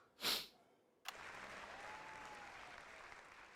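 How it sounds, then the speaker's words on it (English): In the video game Not For Broadcast, a brief sniff-like burst is followed by sustained crowd applause that starts abruptly and holds at a steady, moderately loud level. "Big fucking claps for Jeremy."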